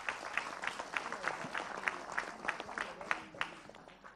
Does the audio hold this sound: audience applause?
yes